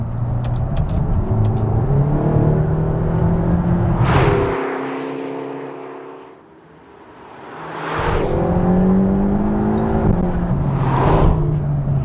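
A 2019 McLaren GT's V8 engine revs up loudly, drops away briefly, then roars through another hard acceleration with rising pitch and a whooshing pass.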